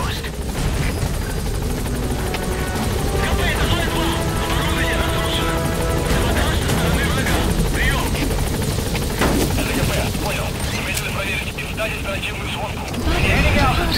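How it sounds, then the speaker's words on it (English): Helicopter in Metal Gear Solid V flying close, a steady loud rotor drone and turbine whine filling the whole stretch alongside game music, with a voice talking over it. "The chopper will be able to get in close now"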